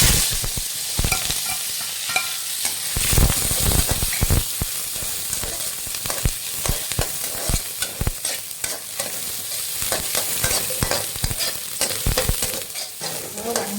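Mustard seeds, small shallots and dried red chilies tempering in hot oil give a loud, continuous sizzle and hiss, with frequent scraping and clattering as the mixture is stirred close by and no voices.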